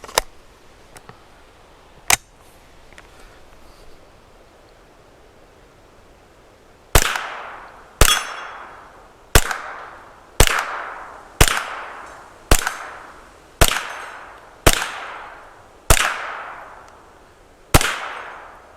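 Kriss Vector carbine with a Bushnell TRS-26 sight firing at steel targets: a few isolated shots, then a steady rapid string of about nine sharp cracks, each followed by a ringing metallic decay, loud and close with no talking.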